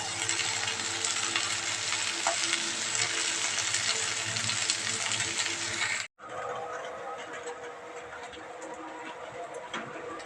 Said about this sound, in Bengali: এই দেখো দেখেছো কেমন বৃষ্টি নেমেছে আর এই টিপির টিপির বৃষ্টি